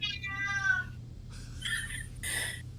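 A cat meows in two drawn-out cries, the first a clear whining meow and the second a harsher, strained yowl, close and fairly loud in a quiet room.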